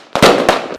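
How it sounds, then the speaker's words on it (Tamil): A 1 kg paper firecracker goes off in two sharp, loud blasts close by, each trailing into a dense crackling burst that fades quickly. "இது வெடிக்கும் போது அவ்வளோ சவுண்டும் அவ்வளோ பேப்பரும் பதறும்"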